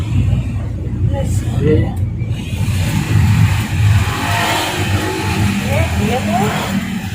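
A car engine revs and accelerates on a road near Pangalengan–Malabar, a mid-pitched growl that swells and fades as the vehicle passes, with people chatting close by over it.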